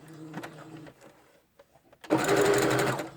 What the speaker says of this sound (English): And I just start sewing that one on.